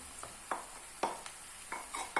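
Repeated short stirring scrapes against a hot pan as chopped mushrooms are sautéed over a steady background sizzle, close up, with no talking.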